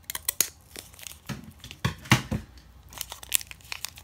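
A sealed 2020 Optic baseball card pack is cut and torn open up close, giving crinkling foil-wrapper rustles and sharp tearing bursts with no talk.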